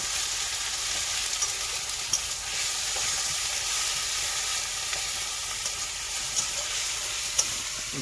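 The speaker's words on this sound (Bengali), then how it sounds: "এবার পেঁয়াজ রসুন দেবো পেঁয়াজ একটু দেবো" Onion and garlic fry in a pan during a night meal cooked aboard a fishermen's river boat, giving a continuous soft hiss and crackle with faint scattered clicks and no talking.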